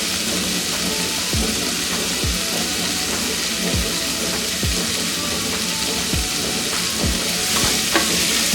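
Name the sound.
spring onion and gram flour frying in oil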